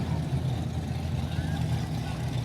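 A 1968 Pontiac Firebird rolls by in a Christmas parade, its engine purring as a steady low rumble, with voices talking over it.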